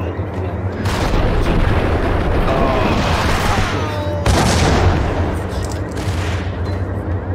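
Loud, nearly continuous rapid gunfire with dense bursts and booming blasts, a heavy burst kicking in near the start and another midway, over a constant low rumble.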